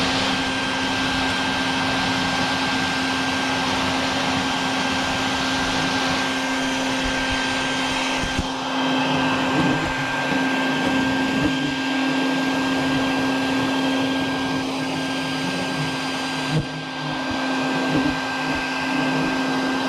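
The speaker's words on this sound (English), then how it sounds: "Get to see them getting sucked right into the vacuum." A vacuum runs loud and steady, its motor whine holding a constant pitch as baldfaced hornets are sucked from a late-season nest, with brief dips and surges in the airflow and no talking.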